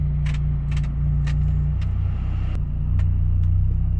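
A supercharged Jaguar F-Type's engine turns over and settles into a deep, steady idle rumble close by, with a few light clicks and jingles on top.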